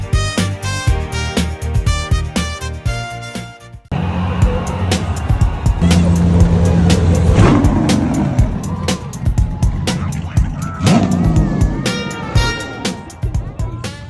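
Race car engines roar at the Cape Town Speed Classic, loud revving passes over a busy crowd's babble, following a brief stretch of music.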